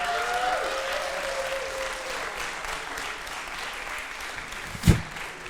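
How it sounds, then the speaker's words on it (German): Audience applause at a live show in Aschaffenburg, a steady crowd clapping that slowly fades, with one sharp louder knock near the end. "Weiß nicht, ob das ein Applaus wert ist."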